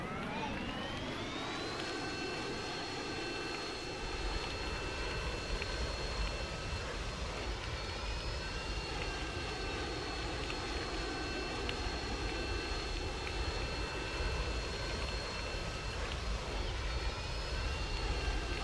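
A Falcon jet in the Roblox game Mad City drones steadily in flight, a continuous engine whine with a rising tone at the start, then holding level and sustained throughout with no voices.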